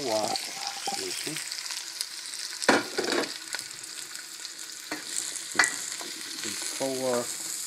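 A pot being stirred while butternut squash soup is made, with a utensil scraping in irregular strokes over a steady sizzle and a few sharper clanks against the side.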